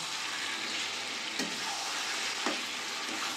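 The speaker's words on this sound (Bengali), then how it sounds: "চিকেনটা ভালো করে মশলার সাথে কষিয়ে নেব।" Chicken pieces frying with spices in a pan for a chicken curry, a soft steady sizzle with a couple of sharp stirring knocks against the pan.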